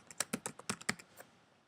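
Quick run of keystrokes on a computer keyboard while entering text on screen: about eight close, crisp clicks in an uneven rhythm, then trailing off into near silence.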